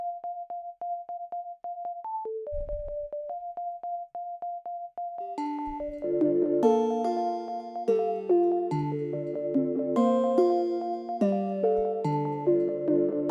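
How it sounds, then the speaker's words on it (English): A Sinus EP electric piano patch plays a bell-like melody in a beat, first a sparse repeating single-note line, then fuller sustained chords with brief low percussive hits, clean and upfront without vocals. "I got this Xenology bell, or actually, so it's an E piano. It's called Sinus EP, and that one just plays throughout."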